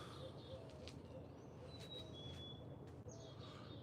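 Chickadees calling outdoors near a hummingbird feeder, a few thin high whistled notes and chirps at moderate distance over a steady background hum, no voices.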